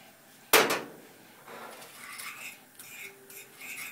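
Breadcrumbs being stirred into lobster mac and cheese, with one sharp utensil clink against the dish, then soft, scattered scraping and stirring sounds, quiet and close.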